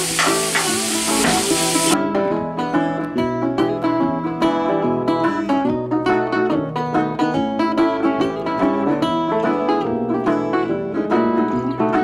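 Butter and brown sugar being mixed in a hot pot for a Southern vegetable beef soup, a loud continuous sizzle with busy stirring and scraping up close.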